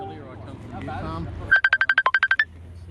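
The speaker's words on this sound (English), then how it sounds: "I just have to cancel this phone call." At an outdoor lockdown protest, a mobile phone rings for an incoming call with a rapid, pulsing electronic ringtone of about a dozen quick beeps, rising suddenly after people talking nearby.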